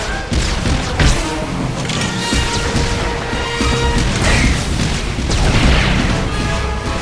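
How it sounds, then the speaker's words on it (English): Heatseeker missiles slam into a turret during a Star Wars: The Old Republic group fight, a dense barrage of loud booms and crashing impacts layered over constant battle noise and laser fire. "The Mercenary fires off a few Heatseeker missiles"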